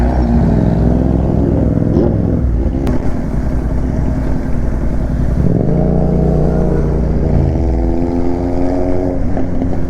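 A motorcycle engine idles and runs in a traffic jam, a close, steady low rumble with brief rises in revs and a passing vehicle drone mixed in, no talking heard.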